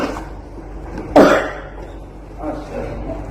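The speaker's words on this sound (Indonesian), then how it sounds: "Sedang batuk ini ya." A man coughs once, sharply and loudly, in the middle of faint background noise, with a softer throat sound after it.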